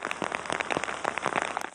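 Rain falls in a monsoon downpour, close and constant with quick patters of drops hitting a surface throughout.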